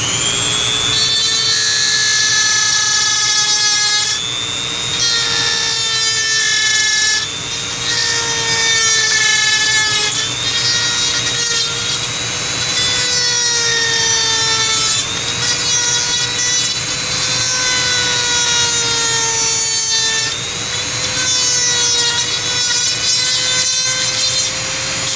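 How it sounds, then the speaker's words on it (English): Dremel rotary tool grinding out plastic pegs on a Nite Finder, a steady loud high whine with rising and falling pitch as the bit bites, continuous and alone without talk. "I'm just going to Dremel that out for you."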